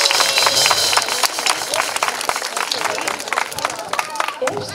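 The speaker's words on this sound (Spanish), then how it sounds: "Un aplauso, por favor." Audience applause at a circus storytelling show, brisk close clapping with crisp individual hand slaps, steady for several seconds and thinning near the end.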